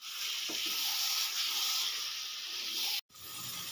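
Spice masala stirred and fried in oil for a stuffed pointed gourd dish, making a loud, steady frying hiss up close that cuts out briefly near the end.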